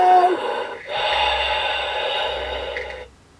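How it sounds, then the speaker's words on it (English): Heavy, ragged breathing from the interactive story game "...Hello?", a few loud close gasping breaths followed by a long, sustained breathy exhale under a low droning background. "a heavy breathing greets you"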